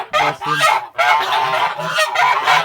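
Geese honk loudly and close at hand, a rapid overlapping series of harsh nasal calls with barely a pause between them.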